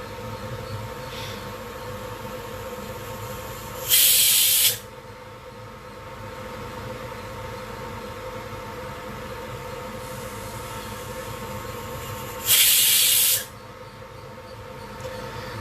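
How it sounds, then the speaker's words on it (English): A kitchen blender purees cooked, caramelised tomatoes in two short loud bursts, each about a second long, separated by a long stretch of low steady background hum. "I'm just going to blend everything together."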